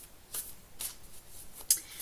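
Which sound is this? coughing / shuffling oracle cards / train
shuffling oracle cards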